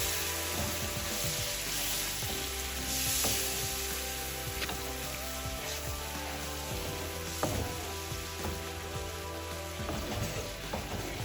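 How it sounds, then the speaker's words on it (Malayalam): Sliced onions frying with tamarind water in a non-stick pan, a continuous sizzle with bursts of scraping and clinking as a spatula stirs them, steady and close with no voices. "ഇനി പുളിവെള്ളം ഈ ഉള്ളിയിലൊന്ന് വഴണ്ട് പറ്റി തരണം."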